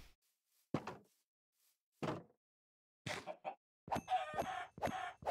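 Minecraft chickens cluck in short separate bursts, a few sparse calls followed by a quick cluster of clucks and flutters, fairly quiet and clear.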